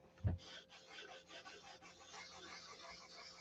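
Sandpaper rasps in steady back-and-forth strokes across a car body panel, dragging on trapped gravel, close but quiet, with one dull thump at the start.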